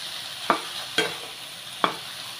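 Patula frying with eggs in a pan with a little oil: a steady soft sizzle carries through, broken by three sharp spatula scrapes, two close together and one after a pause.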